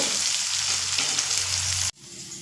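Loud, close sizzling of potatoes with turmeric frying in oil over medium flame, a dense crackling hiss that cuts off abruptly near the end.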